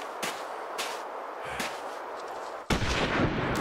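Rifle shots in The Long Dark hunting game: several sharp, booming reports spaced irregularly, the last one heavier and followed by a rumbling tail.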